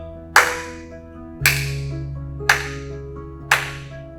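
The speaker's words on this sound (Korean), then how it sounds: "박수를 쳐주세요" Four sharp, evenly spaced claps ring out about a second apart over a soft sustained musical tone, a sound effect for a children's church lesson.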